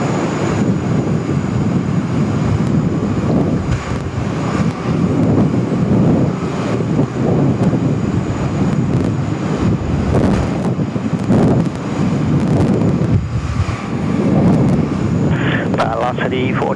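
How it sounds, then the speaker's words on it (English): An Air Hong Kong charter jet lines up on runway 16 right at Sydney Airport, its engines a low distant rumble under steady wind noise on the microphone while someone talks throughout. "Air Hong Kong, the charter flight, just lining up there on runway 16 right at the Bravo 1 holding point."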